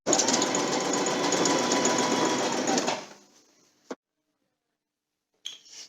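A sewing machine runs steadily for about three seconds, stitching a flat seam on a synthetic top quilt, then stops; a brief clink and a short faint rustle follow in near silence.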